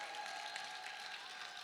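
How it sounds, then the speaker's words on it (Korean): A church audience claps at a summer event presentation, a steady and fairly quiet patter of many hands with no distinct voices on top. "박수 한번 힘차게 쳐주세요."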